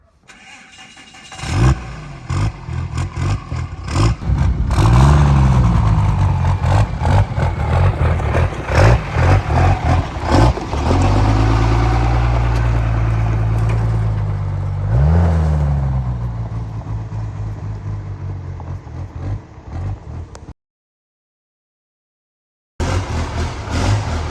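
A drag race truck without air conditioning revs hard on the move, its loud engine rising and falling through several long pulls with steady roaring throughout, then cutting briefly to silence before resuming.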